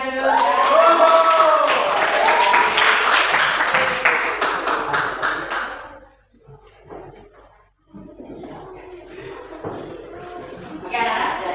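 Classroom applause from a group of schoolchildren during an Islamic creed lesson: dense, loud clapping mixed with chatter and voices for about six seconds, then a brief lull and scattered noise as the room settles.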